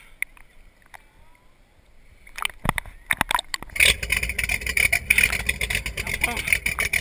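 A motorboat engine catches on a test run, a few sharp knocks and sputters giving way to a loud, ragged running drone, with people talking nearby.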